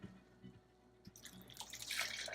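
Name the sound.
water being poured into a pot for clam chowder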